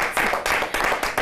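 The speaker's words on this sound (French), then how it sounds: "Ben merci Daisy, on va encore applaudir s'il vous plaît Franck." A short burst of steady applause, many hands clapping together in a dense, continuous patter, close and fairly loud.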